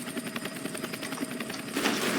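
A video-game helicopter's rotor beats in a steady, fast chopping rhythm, loud and close throughout with a dense engine whine underneath and no talking.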